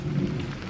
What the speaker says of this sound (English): We've got rain.